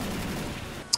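Gunfire in Left 4 Dead 2 on the Last Baktun map, a dense, steady fusillade of shots filling the second, with one sharp bright report near the end.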